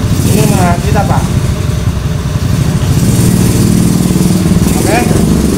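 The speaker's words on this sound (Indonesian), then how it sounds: "Ini menyala, namun tadi saat menyala sekitar 5 detik ini motor mati lagi" An automatic scooter with hard starting and stalling trouble idles steadily up close, a dense low engine rumble running unbroken throughout while someone speaks briefly over it near the start and again near the end.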